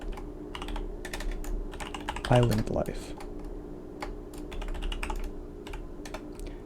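Steady clicking of a broken computer keyboard, rapid keystrokes in bursts, with someone talking over it now and then.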